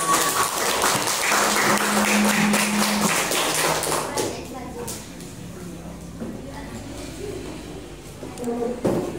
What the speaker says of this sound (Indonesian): Nah, tepuk tangan kepada